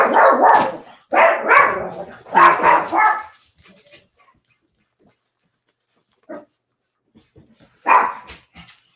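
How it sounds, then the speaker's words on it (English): A dog barks in loud bursts close by, with several barks clustered early and another near the end, while someone speaks briefly between them during a poetry reading. "Pardon my dog here."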